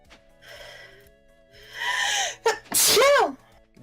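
A single loud, close sneeze with a sharp inhaled gasp leading into an explosive burst, preceded by quieter breathy sounds, during a livestream of Stardew Valley multiplayer.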